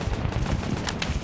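A gun in a video game fires continuously, a dense, loud stream of rapid shots filling the whole short stretch with no pause.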